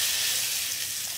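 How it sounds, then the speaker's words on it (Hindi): Hot cumin tempering for a fasting-style coconut peanut chutney for idli and dosa hits the chutney with a steady, close hiss of sizzling oil that fills the whole short moment, with no talking. "तो तड़का तैयार है और उसे चटनी पर डाल देती हूँ"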